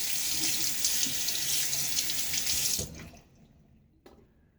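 A bathroom tap runs water into a sink for shaving lather, a loud steady hiss that stops abruptly near the end, followed by near silence and a single faint clink.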